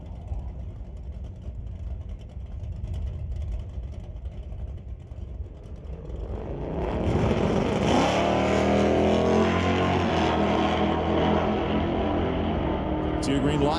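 At a drag strip, a 1970 Chevelle and a 5-liter Mustang rumble low at first, then roar loudly from about halfway, their engines rising in pitch as they launch and run down the track.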